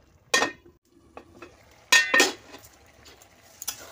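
A metal lid clanks onto a cooking pot of ash gourd simmering with shrimp and a hilsa fish head. A few sharp metallic clinks ring out close up with quiet pauses between them, and there is no talking.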